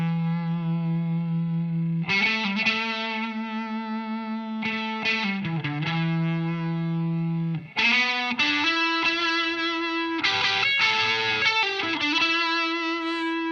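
An electric guitar played through a Seeker Effects Lineage Face fuzz pedal rings out thick, distorted sustained notes and chord stabs, with several held tones followed by quicker bursts, played alone without talking.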